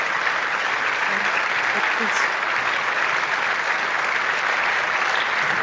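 Long, steady applause played into a live stream from its chat, a loud continuous wash of clapping with a few faint voices mixed underneath.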